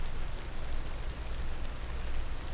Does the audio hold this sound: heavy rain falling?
yes